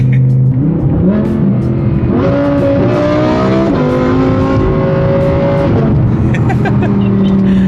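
An Audi R8 sports car engine drones loudly and steadily, its pitch climbing and falling as it revs through gears, close and continuous.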